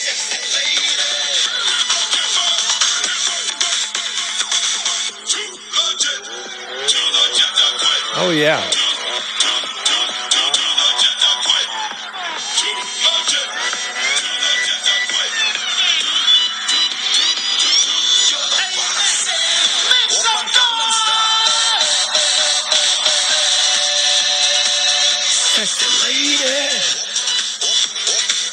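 A song plays through a cell phone speaker, giving a thin, tinny, band-limited sound that runs continuously for the whole stretch at steady loudness.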